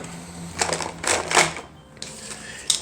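Board game tiles are gathered and dropped back into the game box, giving a few short bursts of clattering cardboard clicks with brief pauses between them.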